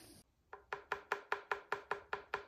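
A trimmed clay bowl tapped like a drum after trimming with spinner and Plexiglas tools, about nine even, hollow knocks in quick steady rhythm, close and clear with no talking.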